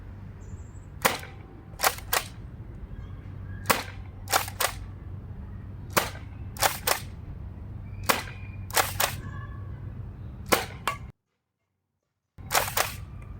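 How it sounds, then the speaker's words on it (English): Nerf Rival blaster fired repeatedly at a row of cans, giving sharp snapping shots in irregular bursts of one to three, with a steady low hum underneath and a brief dead gap near the end. "trying to hit these 10 cans with 18 rounds with Rival"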